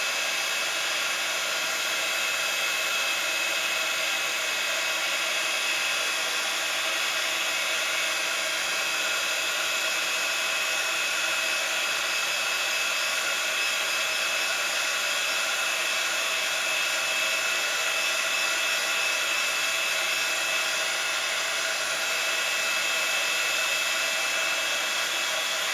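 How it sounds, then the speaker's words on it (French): A heat embossing tool blows hot air over a paper flower dusted with embossing powder, giving a loud, steady whirring blower hiss with a constant whine that runs without a break. "je reprends mon fer à chauffer"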